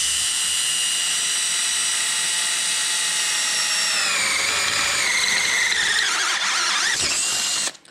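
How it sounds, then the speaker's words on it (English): A power drill bores a hole with a Matco Hyper step bit, a steady high whine with strong tonal harmonics that bend and drop in pitch as the bit bites harder near the end, then cuts off abruptly. "You can hear it in the drill"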